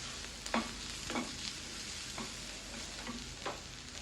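Garlic and slit green chilies sauté in a hot pan, a steady soft sizzle broken by several sharp scrapes of a spoon stirring against the metal.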